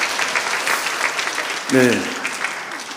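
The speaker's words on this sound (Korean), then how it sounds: "다시 한번 뜨거운 박수 부탁드립니다." A church congregation at a Friday worship service applauds steadily in a dense, continuous clatter of many hands, with a brief spoken word from a leader cutting through partway.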